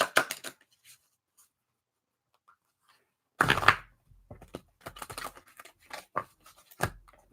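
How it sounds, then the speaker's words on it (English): A tarot card deck shuffled by hand, with a short riffle-like burst of card flutter after a pause, followed by scattered soft card slaps and crinkly paper handling, close and fairly quiet. "Let me go ahead and shuffle."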